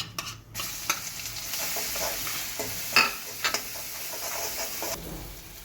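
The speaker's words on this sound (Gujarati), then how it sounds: "હવે એની અંદર છે ને થોડો અજમો, હિંગ નાખી અને આદુ મરચાં અને લસણની પેસ્ટ નાખી દઈશું." Ajwain, asafoetida and ginger-chili-garlic paste sizzle in hot oil for lilva kachori filling, a continuous close crackling fry with intermittent stirring scrapes and a sharper spatter around the middle.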